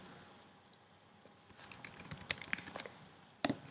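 A database name is typed on a computer keyboard, a short run of faint, quick key clicks that starts after a second of quiet room tone and ends with a louder final tap. Keystrokes sound close but soft, with no voice.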